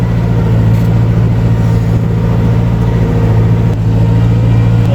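A 2011 model 5455 tractor with a tuned fuel pump pulls a subsoiler, its engine droning loud and steady close by with a deep, continuous low rumble and no break for the whole stretch.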